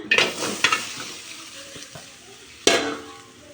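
Loud sizzling as chopped plantain hits hot oil in a pan, with a few sharp stirring scrapes and a second burst of frying near the end.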